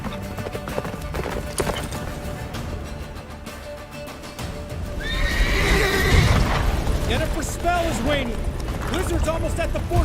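Roach, the horse in The Witcher 3, lets out a loud rising whinny over the steady thud of galloping hooves, with battle noise behind and voices talking throughout.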